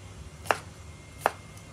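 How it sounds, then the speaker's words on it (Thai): A knife chops beef shank on a cutting board in a home kitchen, two sharp, close strikes about three-quarters of a second apart against a quiet background. "หั่นให้แบบย่อยๆนะเพราะยังไงเดี๋ยวเราก็ต้องโขกมันอยู่แล้ว"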